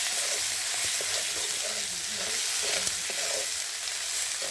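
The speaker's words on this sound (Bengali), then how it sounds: "দিয়ে ভালো করে কষিয়ে নেব।" Ginger paste, cumin paste, turmeric and salt frying in a pan for a bottle gourd and prawn dish, a steady close sizzle with occasional stirring scrapes throughout.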